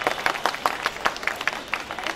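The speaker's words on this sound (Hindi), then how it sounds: "तो एक बार आप लोग के लिए जोरदार तालियां" Loud audience applause at a Chausathi Yogini Mahotsav festival gathering, a dense burst of many hands clapping with sharp irregular peaks, close and sustained with no talk over it.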